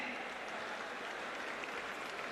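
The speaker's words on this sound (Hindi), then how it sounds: "जोरदार तालियां बजाते रहें इन सबके सम्मान में" Audience at a ceremony honouring municipal workers applauds in a steady, continuous patter of clapping, moderately distant and fairly quiet throughout.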